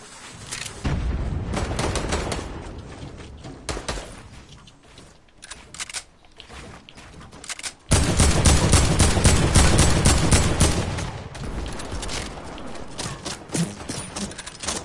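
Video game gunfire in a fast online shooter match: dense, loud bursts of rapid shots and booms that keep going, easing off briefly before a heavier stretch of sustained fire.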